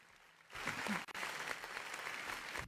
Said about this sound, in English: give it y'all a little bit more rounds of applause